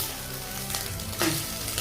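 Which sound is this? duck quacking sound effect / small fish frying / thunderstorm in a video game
small fish frying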